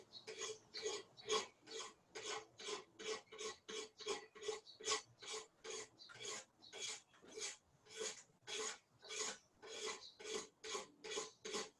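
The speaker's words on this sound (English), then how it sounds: "I can just go back to the card scraper, which I will do." A card scraper rasps across an Osage orange wood bow in a steady, even series of about two dozen close, quiet strokes, with no voices.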